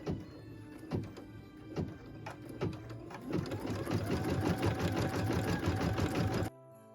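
A few separate thunks come first, then a sewing machine speeds into a steady close whir of quick stitches on a Christmas tree skirt, stitching red holly berries with red thread, before stopping abruptly.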